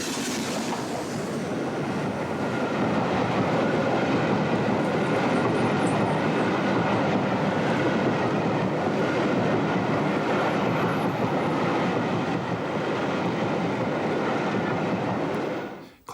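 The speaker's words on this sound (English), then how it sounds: "City of Leeds heads the down so-called horse and carriage parcels train at Shap." LMS Stanier Pacific steam locomotive City of Leeds hauling a down parcels train at Shap, a loud sustained roar of the train with rhythmic wheel clatter, continuous for the whole stretch.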